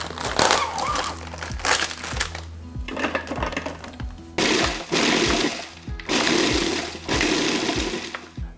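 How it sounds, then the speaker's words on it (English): A kitchen blender grinds 24 Oreo cookies for a pie crust, running in loud bursts of roughly a second or more separated by brief pauses, with choppy crunching as the cookies break down. "The 24 Oreo cookies are all blended up"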